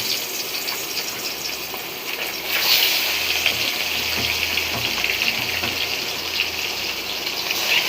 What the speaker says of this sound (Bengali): এবার আমি একটা একটা করে পাবদা মাছগুলোকে তেলের মধ্যে দিয়ে দেব। এইভাবে আমি প্রতিটা মাছকেই সুন্দরভাবে ভেজে ফেলব।